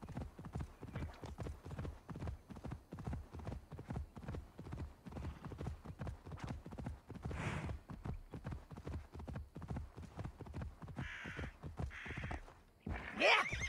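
Horse hooves clip-clop at a quick, steady rhythm in the video game Assassin's Creed Valhalla, with a whinny midway, a brief voice, and another neigh and hoof stamp near the end.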